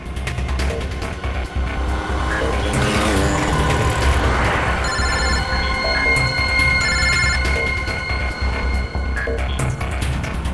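A telephone rings with a repeating electronic tone in two bursts over a steady low rumble of background traffic, then the ringing cuts off as the call is rejected; no speech is heard.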